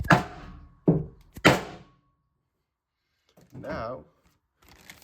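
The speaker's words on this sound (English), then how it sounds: "Get my finish hammer and just..." Sharp taps of a finish hammer seating a part on a Honda 3813 mowing deck through a plastic bag: three close, loud knocks in quick succession, followed later by a brief crinkly rustle.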